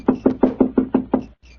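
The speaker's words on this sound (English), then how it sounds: "I'll knock again." Seven firm knocks on a hotel room door, evenly spaced and close, followed by a brief silence and faint room tone; no one speaks.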